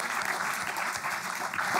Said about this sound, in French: Je voulais vous demander de remercier et d'applaudir Régis Debray